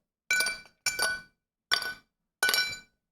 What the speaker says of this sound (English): I'm going to take some ice.